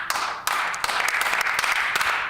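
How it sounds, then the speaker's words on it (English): Members in a House chamber clap, a burst of brisk, fairly close applause with sharp individual claps over a steady patter, alone without talk. "my colleague from Concordia was the first to clap"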